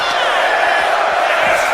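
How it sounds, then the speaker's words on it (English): Loud, dense arena crowd roaring and cheering for Roman Reigns during a WWE 2K25 wrestling match, a continuous wall of voices with no talk over it. "Crowd acknowledging Roman Reigns."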